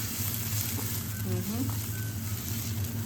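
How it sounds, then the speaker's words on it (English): Onions stir fry in a pan with a dense, even sizzle close by and faint scraping movement, with no break in the frying. "So now let me stir fry my onions."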